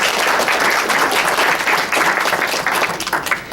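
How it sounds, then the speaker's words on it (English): An audience applauds a speaker at a talk, loud dense clapping that carries steadily throughout and begins to thin toward the end. "So let's give Jason a round of applause."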